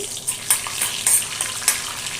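Mustard seeds, cumin and dried red chillies frying in hot oil, a close, loud, steady sizzle with small popping crackles and stirring scrapes, and no voices.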